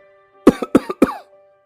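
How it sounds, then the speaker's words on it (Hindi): A short burst of light coughing, three or four quick soft coughs close by, with no talking. "दूसरी तरफ से हल्का सा खांसता है"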